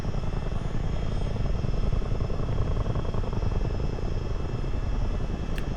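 A CH-47 Chinook tandem-rotor military helicopter in flight, simulated over water, gives a loud, steady, continuous rotor and engine drone that stays constant throughout with no talking.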